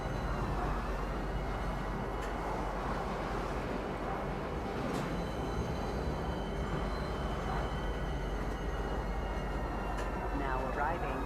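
A video-game metro train pulls into a spaceport station, its steady rumbling roar filling the scene while a recorded announcement-style voice talks over it.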